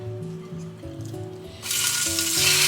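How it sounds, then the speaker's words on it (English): Hot oil crackles and hisses, then swells into a loud, bright sizzle as shrimp go into the pan, with music playing underneath. "We are going to be frying a shrimp."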